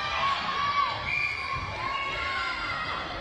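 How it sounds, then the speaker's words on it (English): Netball teams from Dubai College cheer and shout from the crowd at a school netball tournament, a continuous loud wash of children's voices with rising whoops and calls. "You can hear the other teams from Dubai College trying to cheer them on."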